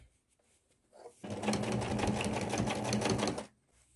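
A sewing machine stitches fabric in one continuous run of a couple of seconds, a fast even rattling whir that starts and stops abruptly, preceded by faint handling noises.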